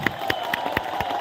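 A protest crowd honouring student leaders claps in a steady, rhythmic beat, sharp claps landing about four times a second over a low murmur of people.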